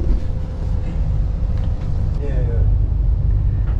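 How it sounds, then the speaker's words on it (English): Inside a moving train carriage, a loud low rumble and rolling hum with a brief squeal, and voices talking faintly over the noise. "We made it into the train."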